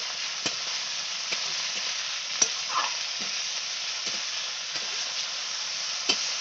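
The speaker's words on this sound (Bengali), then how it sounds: "দিয়ে একটু ভালো করে নেড়ে দেবো" Ginger and tomato fry in a pan with a constant hissing sizzle, broken by regular sharp clicks and scrapes as a spoon stirs them, close and with no talk.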